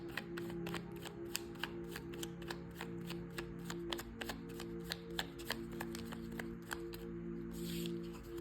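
Oracle cards are shuffled for a reading, a quiet run of crisp, evenly spaced flicks and riffles that continues steadily for several seconds.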